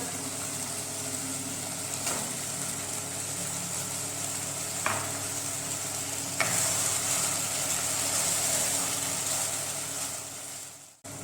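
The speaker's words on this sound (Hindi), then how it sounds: "टमाटर हमारे अच्छी तरह फ्राई हो चुके हैं।" Chicken and tomatoes frying together in a pan, a steady close sizzle with a few scrapes and stirs, growing a little more intense in the second half.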